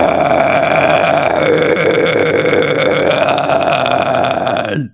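A false chord scream is demonstrated as one sustained, gritty, growling vocal roar, loud and close, holding steady for about five seconds before cutting off abruptly.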